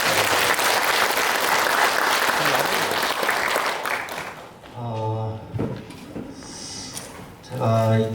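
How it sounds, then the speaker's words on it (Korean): An audience at a Buddhist forum gives sustained, dense applause that fades after a few seconds. Speech follows in the hall. "정말 모두를 위해서 박수 한번 칠까요?"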